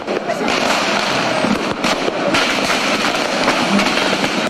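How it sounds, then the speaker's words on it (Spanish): Fireworks at a New Year celebration in Guayaquil, Ecuador, make a dense, continuous crackle and popping with scattered louder bangs, filling the whole stretch without a break. "en el cielo los fuegos artificiales le dieron la bienvenida al 2021"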